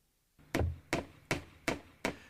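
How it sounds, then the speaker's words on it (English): Five sharp hammer blows drive 8-penny galvanized finish nails into a wooden door threshold riser, evenly spaced and close, each strike a crisp knock with a short ring and no talk. "Fasten the riser in place with 8-penny galvanized finish nails."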